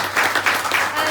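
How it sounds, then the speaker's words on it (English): Book launch attendees at an independent bookstore give a short, dense round of clapping, close and steady over a faint low hum. "So let's give them a clap for just running."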